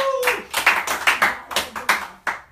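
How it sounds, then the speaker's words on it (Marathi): Audience clapping at a Marathi TV cast meet-and-greet, a steady series of about ten sharp, separate claps in a brisk rhythm, fairly close, with a short voice at the start. "टाळ्या व्हायला पाहिजे"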